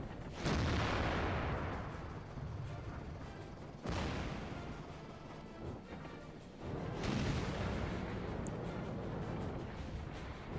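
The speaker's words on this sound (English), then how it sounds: "I figure since I'm gonna get shot anyway, I might as well take a shot at the T69." Tank cannon fire in the World of Tanks video game, aimed at a T69 on the Mines map: heavy booming shots with rumbling tails, three blasts spaced a few seconds apart over a continuous loud battle din.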